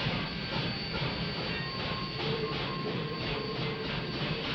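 A passenger train runs steadily along the rails with a continuous rumble, hiss and faint rhythmic clatter from the wheels, heard without a break and with no voices.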